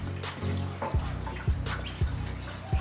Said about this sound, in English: I'm gonna pour the whole bottle in.